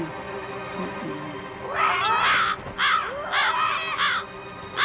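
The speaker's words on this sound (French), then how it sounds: "Vous avez vu tous ces corbeaux?" Several crows cawing in harsh repeated calls, loud and close, in bursts with short gaps, set against a low background hum.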